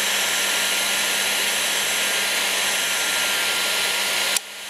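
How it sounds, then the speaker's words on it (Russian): A heat gun blows hot air onto an RBUZ D2-63 voltage relay, making a loud, steady, broadband rushing roar that runs unbroken and then cuts off abruptly just before the end. "Попробуем с помощью технического фена."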